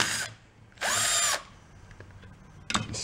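Power drill whirring in short bursts while removing bolts from a broken antique tiller, two or three close whines with quiet gaps between, no talk.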